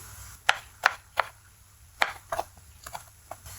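A knife cuts through okra (bhindi) on a cutting board, about eight sharp, close taps spaced irregularly, each a crisp knock against a quiet background.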